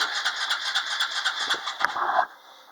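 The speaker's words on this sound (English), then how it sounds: "Will it run? Give her a little choke." An ATV on a cold start with the choke on, its engine cranking and sputtering in a steady rough run for about two seconds before it cuts out and goes quiet.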